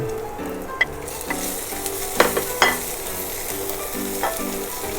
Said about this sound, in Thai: แม่นันเอาลงมาทอดในน้ำมันนะคะ ทอดน้ำมันน้อยๆค่ะ